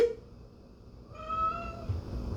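A single cat meow, clear and fairly close, rises and fades over about a second against quiet room noise.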